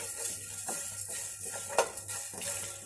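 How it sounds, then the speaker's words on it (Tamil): Fenugreek seeds dry roasting in a pan over medium flame for lemon pickle, with soft continuous rustling and light clinks of utensil against pan, a brief louder scrape near the middle, no talk. "முதல்ல வெந்தயம் கடுகும் ட்ரை ரோஸ்ட் பண்ணி எடுத்துக்கலாம்"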